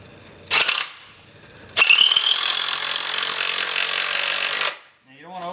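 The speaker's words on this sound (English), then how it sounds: "I'm using my 3/4 inch socket." A 3/4 inch socket on a power driver tightens a cubmobile axle through a bearing. A short buzzing burst comes first, then a sustained, close, high whir runs for about three seconds before a voice is briefly heard.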